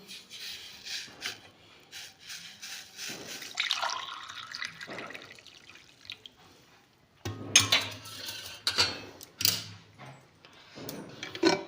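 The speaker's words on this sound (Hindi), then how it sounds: "ये बर्तन सब धुल गए हैं, पानी में रख दे रहे हैं" Dishes, pots and utensils clatter and clink as they are washed in water, with splashes, drips and scraping in irregular bursts, close by, growing busier and louder in the second half.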